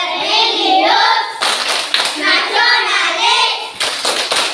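A class of schoolchildren claps hands in a patterned rhythm, sharp bursts of claps mixed with the children chanting together loudly.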